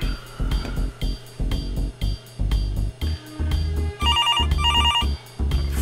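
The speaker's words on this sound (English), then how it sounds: "Phone call." A telephone rings in a cartoon-style video game cutscene, a repeated electronic bell trill in two clear bursts near the end over a loud, pulsing music score.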